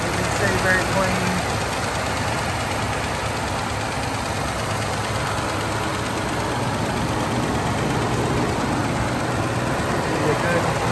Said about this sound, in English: here to have the engine running